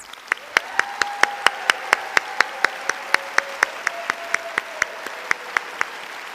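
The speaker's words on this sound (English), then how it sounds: "Please join me in a round of applause for all of our new doctors." Applause at a nursing recognition ceremony at UNLV's School of Nursing, heard as sharp, evenly spaced claps standing out over a soft, steady background of clapping, with a faint sustained tone underneath.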